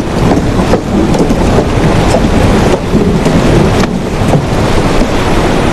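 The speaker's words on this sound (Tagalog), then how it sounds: "Malakas ang ulan." Dense, loud rain roars continuously with a heavy broadband wash, occasional gusty swells and no voices.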